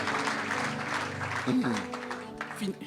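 Church congregation clapping loudly in acclaim for Jesus, a broad spread of applause mixed with voices speaking and calling out over it.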